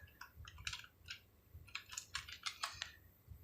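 Bursts of typing on a computer keyboard, quick clusters of light key clicks in short runs with brief pauses, close and fairly quiet, with no talking.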